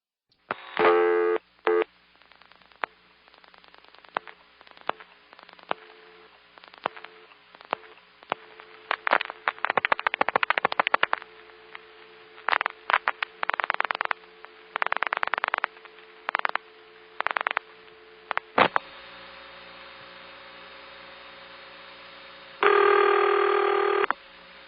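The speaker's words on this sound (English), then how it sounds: "This next call is dial pulse out, 5 digits to a step." A telephone exchange outpulsing a long distance call from Greenville over a 3700 controlled carrier trunk, dial pulse out five digits to a step: trains of rapid clicking pulses broken by pauses, then steady tones near the end.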